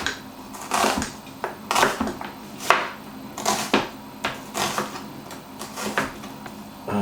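A knife slices through an onion on a cutting board in repeated crisp chopping strokes, several loud close cuts in an uneven rhythm with small pauses between them.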